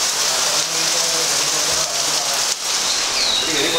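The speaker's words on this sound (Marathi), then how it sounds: "बाहेर किती पाऊस पडतोय ते" Steady rain falling outside a hotel in Goa, a dense even hiss close by, with a brief dip and faint background sounds.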